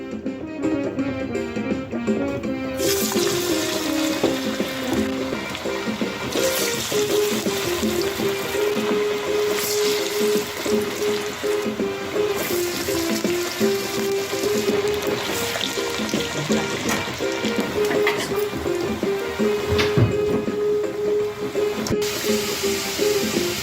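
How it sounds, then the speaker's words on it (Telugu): Sweet corn garelu, spicy lentil-style fritters, frying in hot oil, a loud continuous bubbling rush that holds steady throughout, with an occasional faint tonal whine in the background and no talking. "ఇలా చేతితో గారెలు చేసి వేడి నూనెలో వేయాలి."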